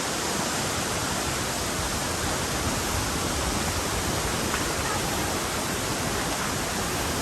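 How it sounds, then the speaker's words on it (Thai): A steady, full roar of rushing water pours on without pause, loud and close, below Huay Luang waterfall at the rapids, Phu Chong Na Yoi National Park, Ubon Ratchathani, Thailand. "อันนี้คืออยู่ล่างๆ น้ำตกแล้วนะครับ"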